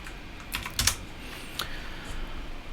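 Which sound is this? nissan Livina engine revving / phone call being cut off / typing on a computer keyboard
typing on a computer keyboard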